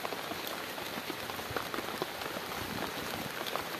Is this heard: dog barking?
no